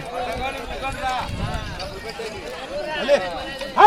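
Bullocks' hooves thud along at a Monday village market, a soft uneven walking rhythm half-buried under loud nearby talk and crowd noise.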